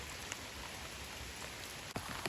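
Steady rain falls in a forest while someone forages for termite mushrooms, a dense continuous hiss of drops on leaves and ground with a few brief louder patters, no voices.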